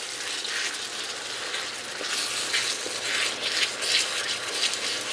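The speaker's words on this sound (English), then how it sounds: "so now you scrape all that stuff off the bottom, all those bits." A utensil scrapes cooked bits off the bottom of a pan into simmering tomato sauce, making a steady wet sizzle with repeated rough scraping strokes close by.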